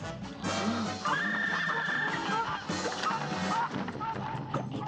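Geese honk repeatedly during a frantic Cuphead boss fight from The Delicious Last Course, the calls rising over busy game music and sound effects with no talking.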